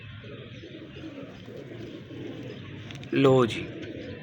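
Pigeons coo in a short, throaty burst near the end, loud and close, over a steady background hum while someone speaks softly.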